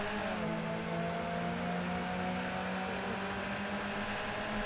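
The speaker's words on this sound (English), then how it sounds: "1990s touring cars, Ford Sierras, around Silverstone" Ford Sierra 1990s touring car engines droning around Silverstone in Assetto Corsa, a steady mid-pitched engine hum with gentle pitch shifts, moderately loud and continuous, no talking.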